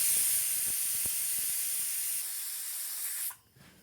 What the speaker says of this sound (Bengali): দুটো সিটি হয়ে গেছে।